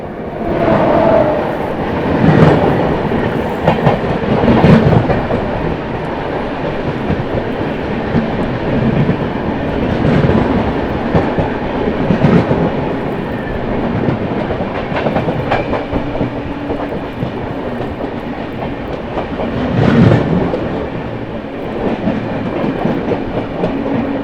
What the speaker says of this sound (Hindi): यहाँ पर अपने से क्रॉस होने आती हुई न्यू दिल्ली हावड़ा दुरंतो एक्सप्रेस